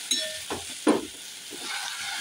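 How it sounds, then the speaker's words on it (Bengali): Chopped vegetables fry with onion and chili in a pan, a close sizzling hiss with a few sharp crackles and stirring scrapes. "এটা করে পেঁয়াজ দিয়ে লঙ্কা দিয়ে ভাজা করছি"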